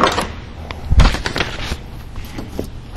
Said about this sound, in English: Doors open and close awesome.